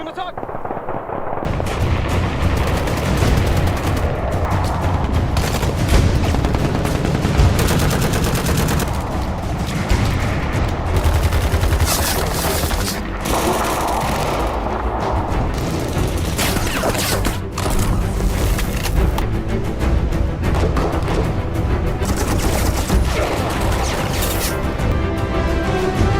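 Dense gunfire fills a film's sniper and hostage rescue scene, with sustained bursts of shots, booms and clattering mechanisms layered loudly over a dramatic soundtrack for nearly half a minute, with voices in places.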